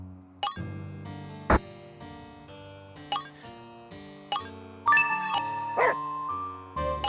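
A police dog in a video game barks in separate sharp, bright bursts, some of them doubled, over a jingling tonal game chime. No one speaks.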